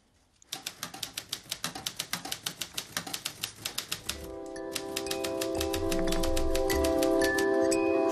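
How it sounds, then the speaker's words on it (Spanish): Someone types on an old manual typewriter, a rapid, regular run of crisp mechanical keystrokes for about four seconds before music swells up and takes over. "Él crea imágenes sorprendentes tecleando en su vieja máquina de escribir."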